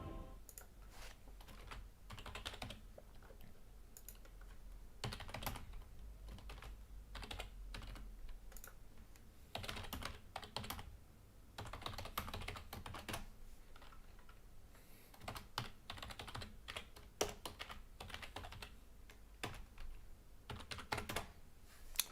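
Steady, close keyboard typing fills the stretch as a chat message is entered during a Total War: Warhammer 2 multiplayer tournament stream, with bursts of rapid clicking keys separated by brief pauses and no talking.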